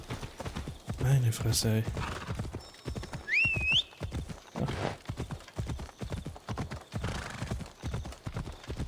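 A horse in the Assassin's Creed Odyssey video game clip-clops at a steady walking rhythm, with a brief whinny partway through, while someone talks over it.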